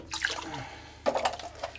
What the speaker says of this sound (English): Pour that out. We'll give it a quick rinse.